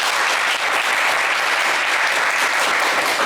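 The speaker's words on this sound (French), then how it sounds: "on vous applaudit très fort." A French television game show's studio audience applauds a contestant, with steady, dense clapping that stays loud and even throughout with no talking.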